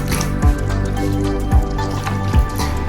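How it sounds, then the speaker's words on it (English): Water splashing as a face is washed off during a night skincare routine, with repeated wet squishing and dripping sounds and three short splashes roughly a second apart, close to the microphone. "you can go ahead, wash your face off. So I'll do that right now."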